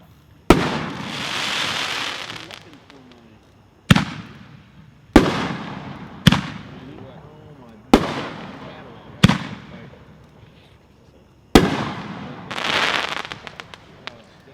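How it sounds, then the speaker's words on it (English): Viper 60 gram canister firework shells fired at a fireworks convention demo: seven sharp, loud explosions spaced a few seconds apart, some followed by crackling tails. "the Viper canister shells, 60 gram, package 424. We'll be shooting 4 of these."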